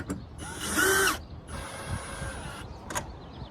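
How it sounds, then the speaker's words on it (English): Cordless power drill fitted with a 7/16 socket driving bolts into a solar panel mounting bracket on an RV roof, two separate whirring bursts with a loud first run and a steadier second, plus brief mechanical clicks. "I got my trusty drill with the 7/16 socket"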